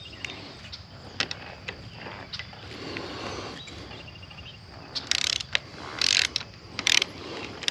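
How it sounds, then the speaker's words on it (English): A torque wrench ratchets while tightening a handlebar clamp bolt on a Royal Enfield Meteor 350 motorcycle, giving sparse, irregular metallic clicks and a few louder bursts of rapid ratcheting close by. "So it's on a torque wrench, righty tighty, lefty loosey. So I'm tightening."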